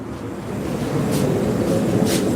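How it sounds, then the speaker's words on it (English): Hot forged steel, a horseshoe knife, plunged into water in a forging workshop gives a broad steady hiss and rush that swells slightly, with two brief sharper sizzling bursts. "I don't know if y'all can hear that, but that's water quenching"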